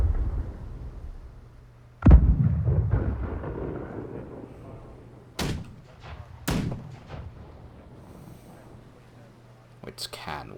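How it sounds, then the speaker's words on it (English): Ship cannons fire in a naval battle video game: sharp booming blasts at about two, five and a half, six and a half and ten seconds, each with a rumbling tail over a low steady hum. There is faint background talk. "For now it seems like they're just going full ham on the cannons."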